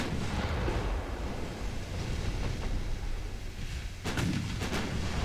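Naval secondary guns firing in Ultimate Admiral Dreadnoughts, a continuous rumbling barrage of dull booms with a few sharper reports near the end, loud and dense throughout without speech.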